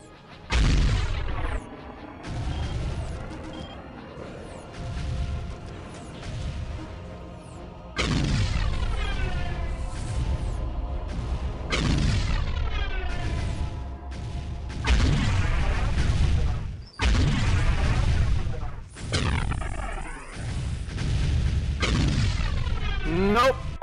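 Cannon artillery fire in the video game Warhammer 40,000 Soulstorm: repeated heavy booms with long ringing decays, loud and dense throughout, mixed with other battle noise.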